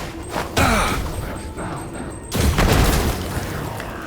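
Two booming grenade explosions in the game System Shock (2023), each a loud, sudden blast followed by a rumbling crackle of debris that trails off, with gameplay sounds between.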